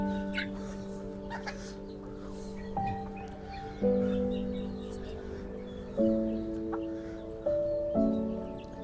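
A chicken clucks in short bursts, a few soft calls spread over several seconds alongside steady tonal background sounds, the bird fairly close and moderately loud.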